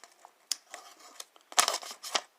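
A Boker Magnum Lil Friend knife with its factory edge slices through paper in a few quick, crisp rasping cuts, close and fairly loud, with brief pauses between strokes and no talk.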